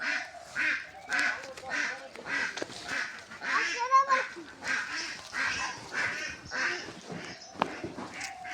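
Ducks quack repeatedly in rapid nasal bursts close by, mixed with overlapping human talk throughout.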